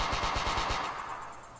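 Rapid automatic gunfire from a third-person shooter video game, about eight quick regular shots over under a second, then a ringing tail fading out.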